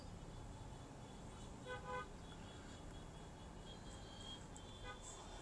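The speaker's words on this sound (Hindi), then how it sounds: "ट्रैफिक कितना हो रहा है देखिए, सब गाड़ियाँ खड़ी है" Kolkata street traffic sits in a jam, with a faint, distant roadway rumble and a couple of short car horn toots, then a few scattered higher honks further off.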